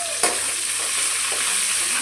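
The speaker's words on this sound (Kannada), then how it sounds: "ಈರುಳ್ಳಿ, ಸ್ವಲ್ಪ ಒಣಮೆಣ್ಸಿನ್ಕಾಯಿ, ಕರಿಬೇವು, ಎಣ್ಣೆ, ಸಾಸಿವೆ ಎಲ್ಲ ಹಾಕಿ ಒಗ್ಗರಣೆ ಮಾಡಬೇಕು" Onion, dried chilli, curry leaves and mustard seeds hit hot oil for a South Indian tempering, opening with a sharp crackle then settling into a bright, steady sizzle close by.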